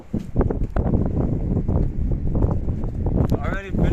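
Strong, cold gusts buffet a sailing boat, roaring steadily into the microphone, with a person speaking through the blustery noise.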